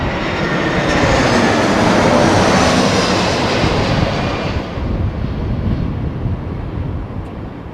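A Brussels Airlines airliner in Red Devils livery passes at London Heathrow Airport, its jet engines a loud, continuous broadband roar that eases off toward the end, with no voices.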